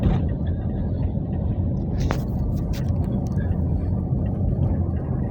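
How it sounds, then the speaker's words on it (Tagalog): A big truck rolls across the San Juanico Bridge with a heavy, constant low rumble close by, road noise steady throughout. "Malaking truck na yan, nakadaan na."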